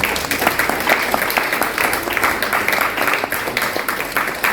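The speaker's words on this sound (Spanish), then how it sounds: "Dale un fuerte aplauso al Señor" A crowd claps steadily in sustained applause, a dense patter of many hands with faint voices mixed in.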